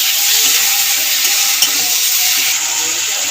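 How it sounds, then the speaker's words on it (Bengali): A spice paste with turmeric and salt fries loudly in a pan, a dense, continuous close sizzle with soft stirring scrapes throughout and no voice. "হলুদ দিয়ে দিলাম পরিমাণ মতন আর একটু নুন দিয়ে দিলাম দিয়ে মশলাটাকে ভালো করে কষিয়ে নেবো"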